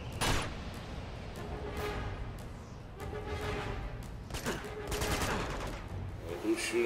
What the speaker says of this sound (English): who's shooting me now?